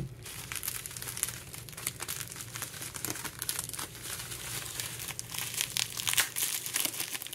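Taped-up package from Korea being opened by hand, with dense, continuous crinkling of plastic and paper and short tearing bursts of tape throughout, close and fairly loud, no talking.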